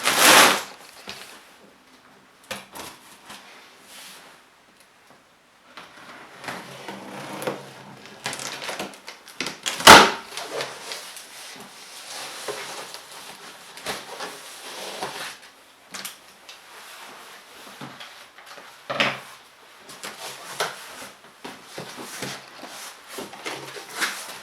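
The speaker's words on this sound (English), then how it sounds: "Let me cut open the box." Cardboard box holding a Milwaukee 12-inch dual bevel sliding compound miter saw being cut and torn open: scattered scraping, crinkling and tearing noises, with one sharp loud crack midway, up close and without talk.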